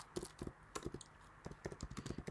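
Code typed on a computer keyboard, quick irregular clusters of soft key clicks, close but quiet, with no one talking.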